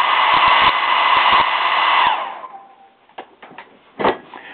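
Hair dryer blowing on leather repair filler in a furniture-repair job, a loud steady whine for about two seconds that then winds down, followed by scattered light clicks and taps.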